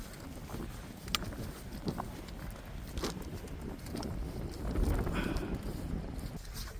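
Wind gusting on an Alpine mountain trail after rain, a steady rushing roar buffeting the microphone with low rumbles swelling louder toward the end, no voices.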